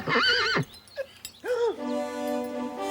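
A pony whinnies in a comedy scene, with two close, loud neighing calls separated by a short pause, and faint background noise between them.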